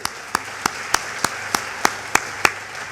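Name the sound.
audience applause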